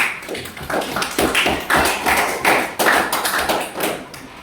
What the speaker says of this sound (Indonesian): kita beri tepuk tangan dulu untuk kelompok 3